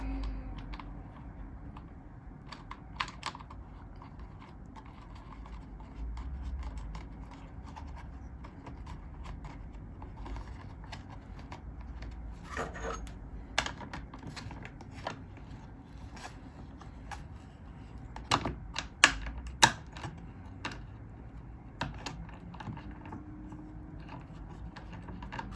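Small metallic clicks and scrapes of nuts being threaded and tightened back onto a chainsaw bar, a scattered run of light taps and ratcheting ticks, close and fairly quiet, with a few sharper knocks near the end and no talk.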